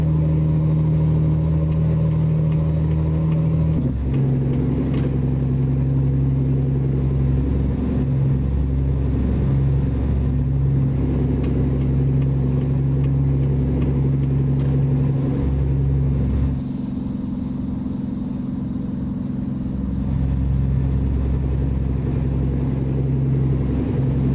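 Deep, steady Caterpillar C15 straight-piped diesel truck engine in American Truck Simulator drones loudly without a break, with a low rumble and a shifting whine as the revs change.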